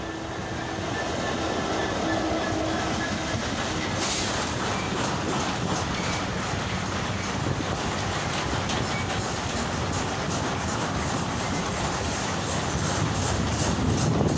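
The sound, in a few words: local train passing with many carriages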